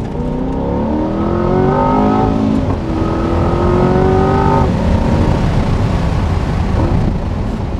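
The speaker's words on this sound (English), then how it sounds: "it gets up in those revs like a much smaller capacity V8 would." A Chevrolet Corvette C8's big V8 revs hard and close, its pitch climbing in repeated sweeps before easing into a rough, loud drone.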